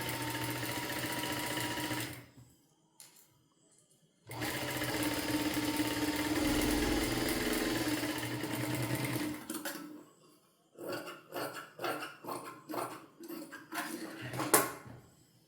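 An electric sewing machine stitches fabric decorated with beads and stones in long steady runs, pauses, then continues in short stuttering bursts.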